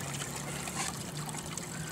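Water trickles through a gold sluice concentrator, a steady, close, hissing splash that runs continuously without a break.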